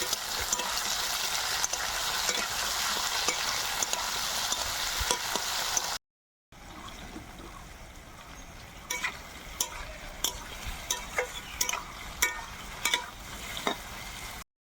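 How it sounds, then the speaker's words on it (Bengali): Taro stolons frying with turmeric in a pan, giving a dense continuous sizzle at first, then after a short gap, quieter frying with repeated scraping and tapping as a spatula stirs them. "এই হলুদটা দিয়ে লতিগুলো একটু নাড়িয়ে চাড়িয়ে কোনো মতে তারপর নামিয়ে দেবো।"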